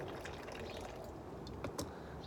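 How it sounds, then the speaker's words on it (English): Green tea poured from high into a cup, a faint soft splashing trickle with a couple of brighter drips toward the end, no talking. "So let's do a nice high pour."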